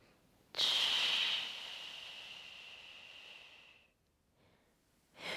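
A single long breath during a beginner lower-body Pilates exercise, starting with a sudden loud rush that fades slowly over about three seconds, then a brief pause and the start of another breath, close to the mic with no talking.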